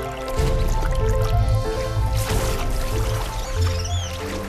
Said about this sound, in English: the arowana launches itself out of the water and into the air.